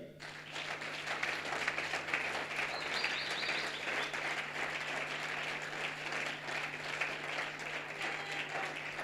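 A church congregation claps and applauds the Lord in a dense, steady wave that holds at an even, fairly loud level for the whole stretch, with no talk over it.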